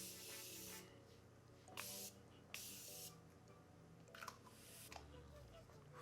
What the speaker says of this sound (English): I'm going to go in with my Morphe spray to blend all that powder in.